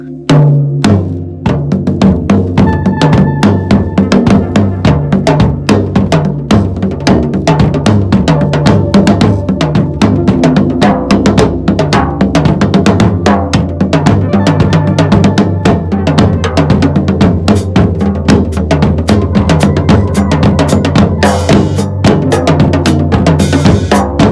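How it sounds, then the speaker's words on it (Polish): Full drum kit playing a steady groove with toms and cymbals, loud and continuous, no talking. "Te dwa bębny akurat w tym wypadku nazywa się tomami"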